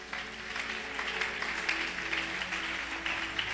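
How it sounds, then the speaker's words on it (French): A church congregation applauds for the Lord in a steady wash of clapping, moderately loud and continuous, with some reverberation from the worship hall. "Est-ce qu'on peut acclamer pour le Seigneur?"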